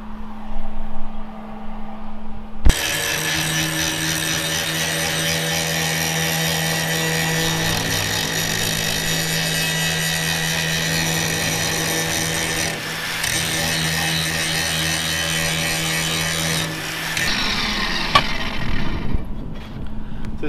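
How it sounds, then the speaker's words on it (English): A power tool cutting and grinding paint off a metal piece for a truck rack runs loud and steady for about fifteen seconds after a quiet start, then cuts off, leaving brief clatter. "I'm gonna go cut another piece, go across here, grind that paint off, and weld it on."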